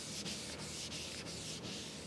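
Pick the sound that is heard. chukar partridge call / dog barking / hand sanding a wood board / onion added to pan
hand sanding a wood board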